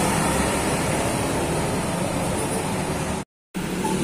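A Jaya Prima tour bus roars past close by, a loud, steady engine rumble with road noise that cuts out briefly near the end, in Ciamis, Indonesia.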